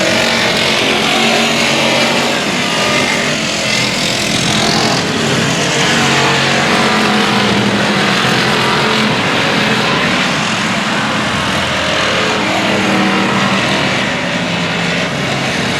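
Race cars racing at Cotton Bowl Speedway, a loud, dense, continuous roar of several engines that stays steady throughout, with no clear breaks.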